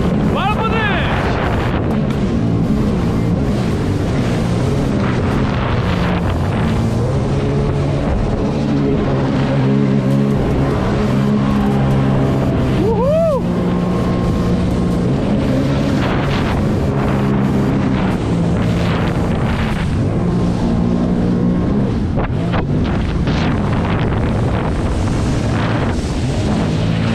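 A jet ski engine drones steadily through a drift on open water, its pitch rising and falling, with strong wind buffeting the microphone and people talking over it.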